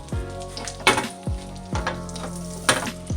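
Red cabbage sizzling in a pan of butter and oil, a steady frying hiss broken by several louder bursts as the pieces are stirred, with faint utensil scrapes and no talking.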